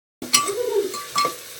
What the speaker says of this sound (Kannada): ಸೊಪ್ಪು ನೀಟಾಗಿ ಬೇಯಬೇಕು ಎಣ್ಣೆ ಒಳಗೆ.